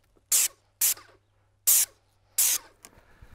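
Airless sprayer applying wood stain: four short, loud hissing bursts separated by brief pauses, each a sharp spray blast that cuts off cleanly.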